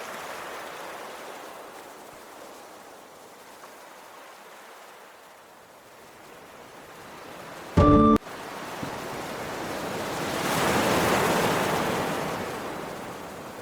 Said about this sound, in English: The relaxing sound of crashing waves.